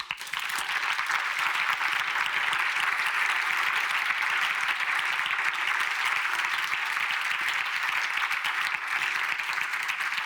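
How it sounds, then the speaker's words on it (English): An awards ceremony audience applauds the finalists with steady, dense clapping that stays loud and even for the whole stretch, no voices over it. "A big, big applause again for all the finalists"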